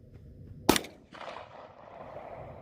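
A single sharp gunshot rings out fairly close on a farm, followed by a low rustling background and faint noise with no voices.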